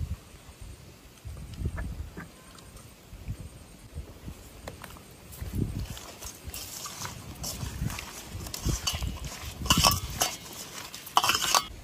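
Hilsa fish being hand-mixed with mustard paste, turmeric, salt and mustard oil: close, soft wet squelches and scattered clinks of a bowl in an irregular rhythm, no voice.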